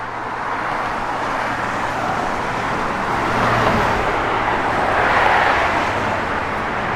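A 1974 Plymouth Barracuda with chrome exhaust tips runs steadily, its engine a continuous broadband rumble with a faint low hum, swelling slightly in the middle before settling; no one speaks.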